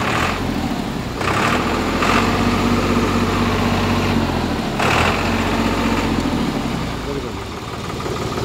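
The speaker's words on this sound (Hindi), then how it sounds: "कितनी शानदार आवाज़ है ट्रैक्टर की" SAME 393 tractor engine idling outdoors in a village, a steady loud diesel chug throughout, with someone talking over it at times.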